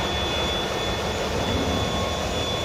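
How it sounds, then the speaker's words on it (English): Loud, steady machinery roar inside the starboard generator room of a container ship, where generators number 3 and 4 run continuously with a dense broadband drone and a faint high whine, no talk. "So that's the starboard generator room"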